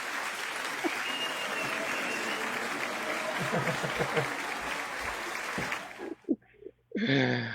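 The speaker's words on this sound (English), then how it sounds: "finally some applause" A small group claps at a trophy presentation during a client appreciation event, a continuous, even burst of applause lasting several seconds before cutting off, followed by a brief voice.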